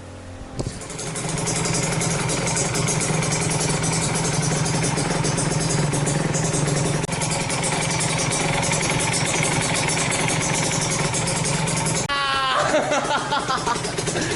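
A Yamaha 125Z motorcycle engine runs at a steady idle for several seconds, loud and close, then briefly revs up near the end.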